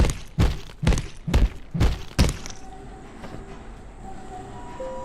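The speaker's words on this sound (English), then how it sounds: "The tram's arrived." A tram pulls in during the Abiotic Factor video game, marked by a run of five heavy, evenly spaced metallic clunks that give way to a quieter rolling hum and faint squeals as it settles.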